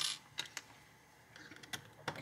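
A Hoover Bullet Trimmer mechanism being loosened gives a few quiet, sharp mechanical clicks and ratcheting ticks, spaced irregularly over a faint background hiss.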